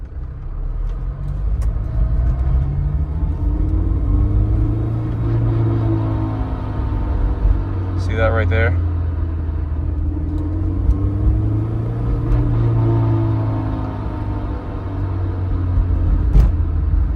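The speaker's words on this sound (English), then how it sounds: "that was the exact kind of noise that was coming from the throwout bearing" A Honda S2000 driven on and off the gas with a suspected throwout bearing noise, heard as a steady loud engine and road drone that swells and eases in slow waves, with a short spoken remark partway through.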